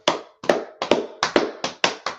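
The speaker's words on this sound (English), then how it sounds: "Clap it up for it." Several rounds of hand clapping in quick bursts, each a cluster of sharp claps, close and loud with brief pauses between.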